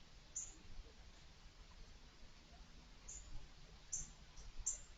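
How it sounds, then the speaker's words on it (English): Cardinals chirp faintly in short, scattered bursts over a soft, steady patter of rain falling around a porch on a quiet rainy day. "listening to the cardinals chirp"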